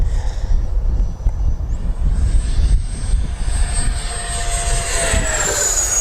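FMS Viper 70mm electric ducted-fan RC jet flying with throttle backed off after takeoff, a steady whooshing fan roar with a thin high whine that rises in pitch near the end as it passes.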